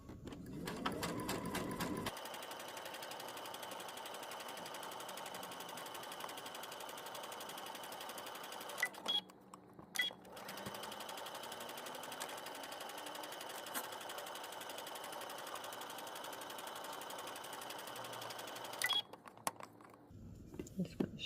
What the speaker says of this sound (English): you're going to stitch all the way to the end